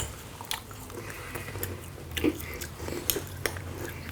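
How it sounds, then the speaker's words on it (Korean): A meringue cookie containing edible crickets is bitten and chewed close up, giving soft crisp crunches and squishy mouth sounds in an irregular rhythm, fairly quiet with no talking. "오늘은 귀뚜라미를 품은 머랭 쿠키를 먹어보겠습니다."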